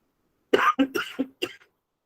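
A short burst of four or five close, harsh coughs in quick succession, then silence.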